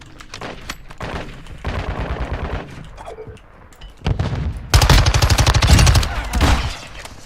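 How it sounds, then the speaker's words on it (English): Bursts of video game gunfire, rapid automatic fire building to a loud, dense volley near the end, with a quieter stretch of scattered shots in between. "he was shooting at somebody"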